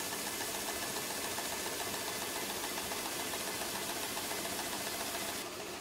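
A Cartes Laser 350 CO2 galvanometric laser die-cutting unit runs with a steady, even mechanical hum and dense broadband whir, constant throughout with no talk, dropping slightly right at the end.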